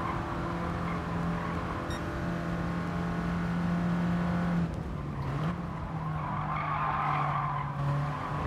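Mini Cooper tires skidding and squealing under braking in Gran Turismo Sport racing, a steady sustained screech over engine drone that shifts pitch midway as the car slows.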